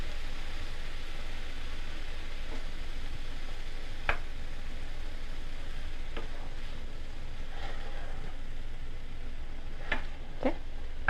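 Zucchini sautéing in a pan for stuffed zucchini, giving a steady, even sizzle throughout with a few faint clicks and soft clatters over it, close and fairly loud, no talking.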